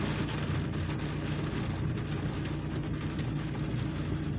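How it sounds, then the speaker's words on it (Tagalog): Heavy rain pours steadily over Metroview cemetery, a dense and constant hiss that fills the whole clip at close range, with no talk over it. "Dahil lumakas ang ulan."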